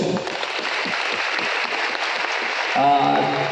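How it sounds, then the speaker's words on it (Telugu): A crowd at a business meeting claps in a continuous patter of many hands, fairly close, with a voice breaking in briefly toward the end. "ఎస్, క్లాప్ చేయొచ్చు."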